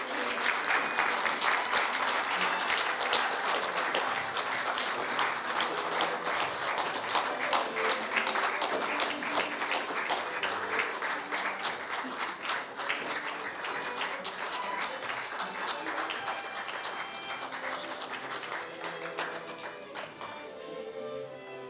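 Sustained applause from an audience at an honorary doctorate ceremony at Yonsei University, a dense, even clatter of many clapping hands that holds steady and tapers slightly toward the end.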